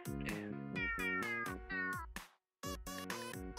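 A cat meows repeatedly in a Korean horror video game, a quick run of clear, close, plaintive meows, then a brief silent gap and a few more meows.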